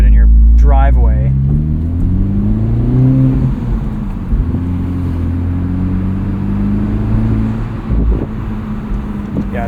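A 2023 Honda Civic Type R with its front resonator deleted drones with a low exhaust rumble that rises and falls in pitch while driving, loud and close, with a person talking briefly over it at the start.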